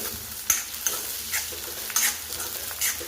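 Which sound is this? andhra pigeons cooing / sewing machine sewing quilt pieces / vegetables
vegetables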